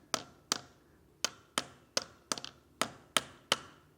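A socket knocking a small bearing into a Royale RP 30 motorcycle clutch: about nine light, sharp metallic taps at a steady pace, close and fairly quiet.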